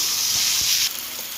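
Fish curry with tomato sizzles in a pan while being stirred, giving a close, steady frying hiss with a few soft scrapes and no voices.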